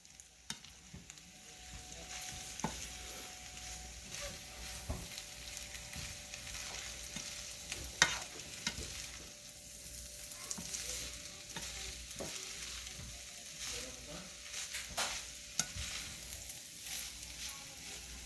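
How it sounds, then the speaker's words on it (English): Onions fry in a pan for chimichangas, a soft steady sizzle under intermittent scraping and stirring strokes with occasional utensil clicks, fairly quiet and close, with no talking. "I'm going to add the rest of these onions to it. Stir it around."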